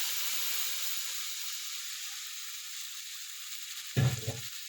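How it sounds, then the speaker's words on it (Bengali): Ginger, garlic and green chili paste hits hot oil already holding cumin seeds while cooking a Bhola fish curry, giving a steady close hiss of frying that swells into a brief louder sizzling burst near the end. "জিরে ফোড়ন দেওয়ার পরে এবার আমি যে আদা রসুন আর কাঁচা লঙ্কা বেটে রেখেছিলাম সেটা দিয়ে দিলাম।"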